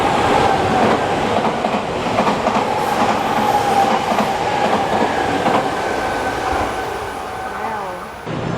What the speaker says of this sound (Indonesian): Itu tadi keretanya yang cepet loh, yang bayarnya mahal, tapi di stasiun sini nggak berhenti.